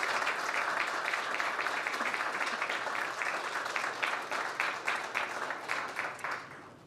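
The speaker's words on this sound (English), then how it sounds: "if we could give them all just one more round of applause" Audience applause at a legislative fellowship program's final presentations, a dense steady round of clapping that thins into separate claps and fades near the end.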